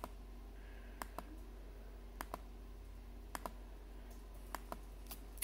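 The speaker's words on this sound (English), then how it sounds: "Now I'm going to hold control and click on the pictures that I need." Faint, sparse mouse or key clicks on a Chromebook, about a dozen crisp single ticks spaced irregularly over a quiet room hum while Ctrl is held and photos are selected.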